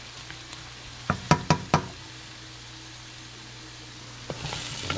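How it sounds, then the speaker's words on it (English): Food cooks down and caramelizes in a hot pan with a steady low sizzle, broken by a quick run of four sharp knocks from stirring or utensil contact and a couple more clacks near the end. "Go ahead and start cooking this down and caramelizing this on ya."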